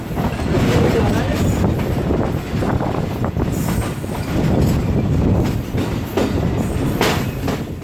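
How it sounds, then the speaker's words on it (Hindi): Karachi Express passing slowly through Kotri Junction, a loud continuous rumble of rolling wagons with rhythmic clickety-clack over the rail joints and occasional wheel squeal, close by and unbroken throughout. "कराची एक्सप्रेस का कोटरी जंक्शन पर स्टॉप नहीं है और ट्रेन काफ़ी स्लो पास करती है कोटरी जंक्शन से।"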